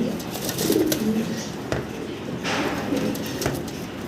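A male red Lahori pigeon coos in a pigeon house, low repeated throaty calls across a few seconds, fairly close, with soft background noise.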